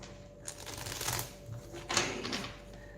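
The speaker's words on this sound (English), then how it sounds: "I'll give these a good shuffle" A deck of tarot cards is shuffled close up in two rustling, riffling bursts, separated by a brief quieter pause, with no talking.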